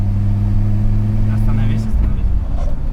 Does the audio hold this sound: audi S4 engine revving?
yes